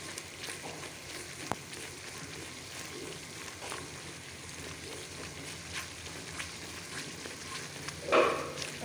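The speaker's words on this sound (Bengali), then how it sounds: "একটু মশলাটাকে কষাই নিতে হবে" Ground spice paste and chicken sauté in a pan with a faint, steady sizzle and occasional soft stirring sounds, then a brief louder scrape near the end, with no voices.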